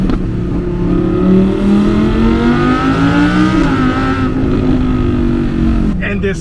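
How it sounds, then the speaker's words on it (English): An Audi R8 with a V10 mounted behind the cabin and a fast-shifting automatic transmission accelerates hard, its engine note climbing steadily through the revs with a quick shift, loud and close from inside the car, while a person talks over it. "this ultra fast shifting automatic transmission with that V10 sitting right behind your head is, oh, it is quite the experience"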